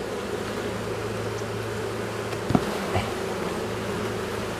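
Honey bees buzz around hive frames in a steady, continuous drone close by, with a couple of brief louder knocks partway through and no voices.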